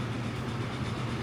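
Steady rumbling run of an Atlantic train in the Transport Fever video game, a continuous low rolling drone with faint rail clatter, even and unbroken.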